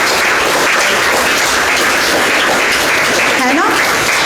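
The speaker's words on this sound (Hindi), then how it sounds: "आप सब लोग जोर से ताली बजा दीजिए" Loud, sustained applause from a crowd of school students at Doon World School, steady and dense throughout, with a voice briefly rising over the clapping near the end.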